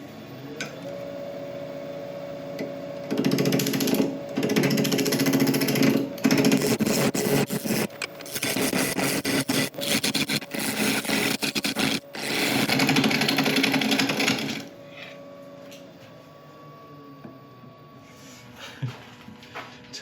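A carbide tool cuts into spinning resin and wood on a lathe, giving loud, rough, continuous grinding and chattering with harsh bursts and brief gaps, close by, easing to quieter scraping near the end.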